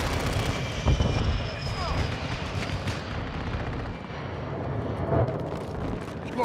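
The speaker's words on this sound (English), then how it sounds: "Friendly stealth bomber entering the AO." A friendly stealth bomber passes over in Call of Duty: Modern Warfare II, a loud sustained jet roar mixed with booming explosions and gunfire across a battle scene, with game voice callouts present.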